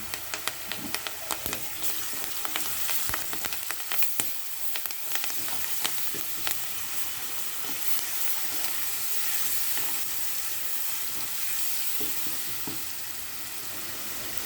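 Curry leaves and ginger frying in a pan of oil while cooking cluster beans: a steady, crackling sizzle with sharp pops and spatters, loudest at first and settling into an even hiss, with no talking.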